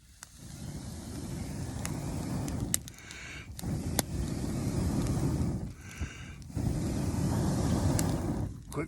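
A campfire at a Mors Kochanski super shelter overnight camp roars up in strong rushing bursts as air is pushed in through pocket bellows, with brief gaps between the surges.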